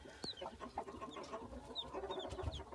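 Newly hatched Aseel Shamo chicks of an old bloodline give scattered thin peeps and chirps. Soft, quick calls repeat over faint background noise and a few clucks.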